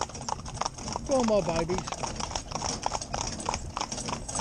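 Hooves of a mixed four-in-hand team of young, green ponies clip-clop steadily on the ground while someone talks encouragingly over them, with a short whinny-like sound early on.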